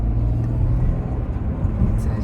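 Steady low engine and road rumble from inside a Porsche Cayenne SUV on a test drive, an even drone with no speech over it.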